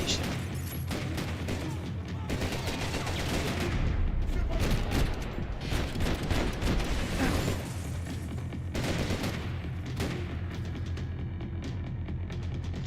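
Bursts of gunfire in Max Payne 3, rapid volleys of shots and heavy impacts layered into a dense, loud firefight that swells and eases in waves.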